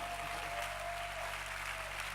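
A church congregation claps during a Christmas service, a steady wash of hand claps filling the room with a low continuous hum underneath, sustained and even throughout.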